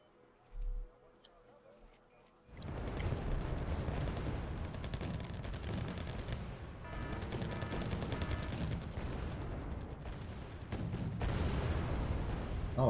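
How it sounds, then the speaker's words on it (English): Artillery in Wargame Red Dragon pounds away steadily after a brief quiet start, a dense continuous barrage of booms and crackles with someone talking faintly underneath. "All these clump forces are getting hit pretty hard by my artillery, which is excellent."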